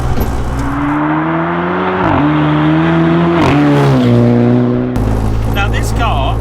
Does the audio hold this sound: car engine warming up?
yes